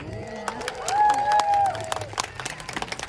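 A crowd at an outdoor animal show at African Lion Safari cheers and claps for volunteers, a modest burst of applause with a sustained high whoop in the middle, then scattered claps fading out.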